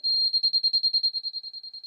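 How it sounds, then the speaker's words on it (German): A height-measuring device used for screed and a level-access shower beeps at a high, steady pitch: first one long tone, then short rapid pips that speed up and slowly fade, alone with no talk. "Je näher ich hinkomme, da fängt es erst langsam an zu piepsen und dann wird es immer schneller."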